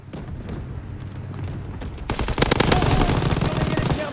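A turret machine gun fires in Call of Duty, a rapid run of loud shots breaking out halfway through over a steady rumbling background of battle noise.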